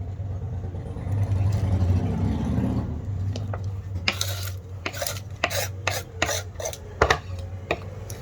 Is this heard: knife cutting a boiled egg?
yes